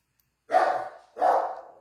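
A dog barking at an open front door indoors: two loud, close barks about half a second apart, separated by a short silence.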